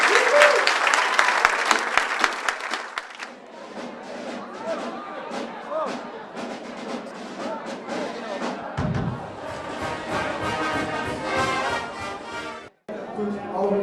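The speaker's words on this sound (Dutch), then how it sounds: "Samen een applaus voor ons allemaal die verkiezing." Audience applause at a farewell gathering of a Roermond association, dense clapping that starts loud and close, gives way to crowd chatter and scattered claps, then swells again near the end.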